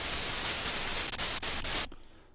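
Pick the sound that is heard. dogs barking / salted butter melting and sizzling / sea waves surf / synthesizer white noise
synthesizer white noise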